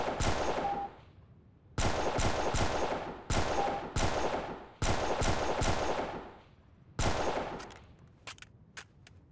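Gunfire in the video game Delta Force Xtreme comes as repeated loud bursts of automatic fire, each lasting about a second, separated by short pauses, with a few sharp single shots at the end.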